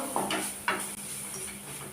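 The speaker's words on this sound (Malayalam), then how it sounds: "ഇതെല്ലാം കൂടി നമുക്ക് നല്ലോണം യോജിപ്പിക്കാം" Salt, chilli powder, turmeric and meat masala being mixed in a bowl for popcorn seasoning: two bright spoon clinks against the dish early on, then soft continuous scraping and stirring, close and fairly quiet, with no talking.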